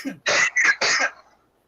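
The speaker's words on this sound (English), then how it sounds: "you just over there coughing just then" Three quick harsh coughs from a person in a talk show setting, loud and close, following a brief throaty lead-in and fading into silence.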